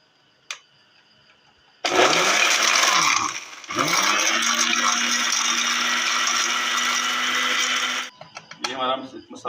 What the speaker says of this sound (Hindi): पहले हमने एक ग्राइंडर लेना है और उसके अंदर ये तमाम चीज़ें ऐड कर लेनी है पीसने के लिए।